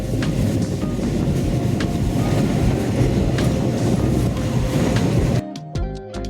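A passenger train wagon rumbles along the line out of Chiang Mai, Thailand, a loud, steady rolling roar with rhythmic clickety-clack, ending in a sudden drop to quieter rattling.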